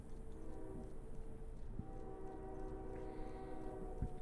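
A train passes outside open windows, a sustained low rumble of rail cars with a steady tonal horn-like drone, moderately distant and alone without talk.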